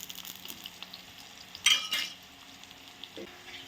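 Onions and finely chopped green chillies frying in a pan, a quiet soft sizzle with a brief louder burst as something is added and stirred, a faint clink of a utensil near the end.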